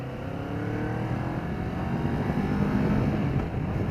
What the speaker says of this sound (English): The bike sounds really good actually, especially under wide open throttle, and this is with a stock exhaust